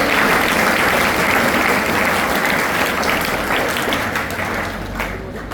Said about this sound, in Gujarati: તાળીઓના ગદગદાથી વધારે